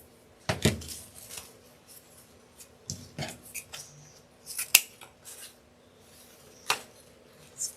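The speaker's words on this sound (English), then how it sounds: "Let's cut some of our ribbons." Scissors snipping through ribbon for a sunflower swag on a Dollar Tree base, a few separate crisp cuts spread out with quiet handling and rustling between them.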